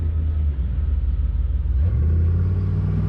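A truck engine rumbles steadily at close range, a deep throbbing idle that shifts to a slightly higher, smoother drone partway through.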